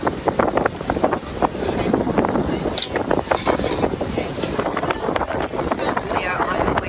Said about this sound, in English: It is windy, 60-some degrees out here.